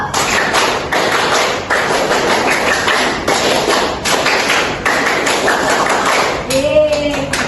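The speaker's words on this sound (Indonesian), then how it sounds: "2 kali tepuk pramuka" A group doing the Scout clap twice, a Pramuka rhythmic routine: loud, close, crisp claps and thumps in a quick patterned sequence that repeats, followed by a brief voice at the end.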